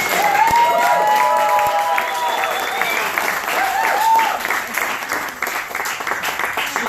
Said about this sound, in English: And Cheryl, a big round of applause.